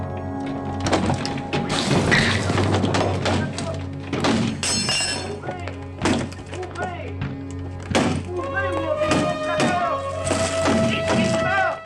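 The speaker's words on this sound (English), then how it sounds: "Banging on the door. Bang on the door." Heavy banging and crashing thuds strike a door again and again during a chaotic fight scene in the James Bond film Thunderball, with glassy breaking and clattering mixed in over music and raised voices.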